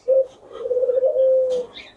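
A Jalali pigeon coos up close, one low, drawn-out throaty call with a brief softer murmur before it.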